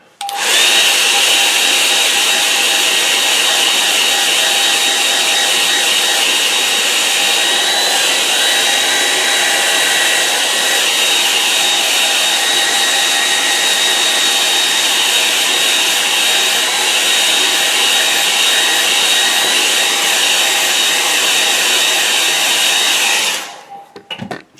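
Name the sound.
hair dryer drying a watercolour painting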